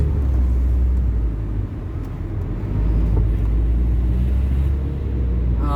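A classic car with a 1.6-litre S-series engine drives along a road, its engine a loud, steady, low bellowing rumble that stays close throughout, easing briefly before swelling again.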